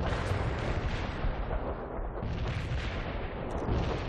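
Fully promoted heavy artillery in the game World in Conflict pounding away, a dense, continuous rumble of overlapping blasts and booms rolling on without pause.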